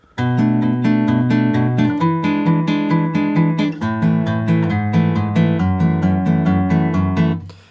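Guitar chords strummed in a steady repeating progression, full and continuous, then ringing out at the end with no voices.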